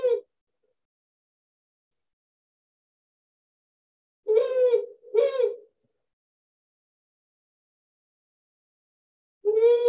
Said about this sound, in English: Every now and again, I hear a powerful owl.